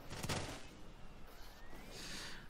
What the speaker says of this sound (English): And here comes the gunfire.